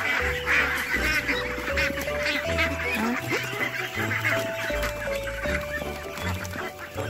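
A flock of 45-day-old ducks calling close by, overlapping quacks and honking cries in an irregular, busy chorus over a low background hum.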